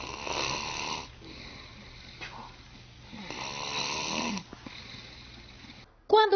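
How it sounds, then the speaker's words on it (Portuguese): A child snores in slow, repeated breaths, each a raspy drawn-out rumble with quiet pauses between, heard close and alone until a brief louder noise at the very end. "O ronco infantil, é um pouquinho diferente do ronco do adulto"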